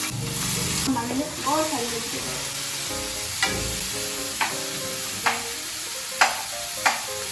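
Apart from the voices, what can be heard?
spices tempering, sizzling in hot oil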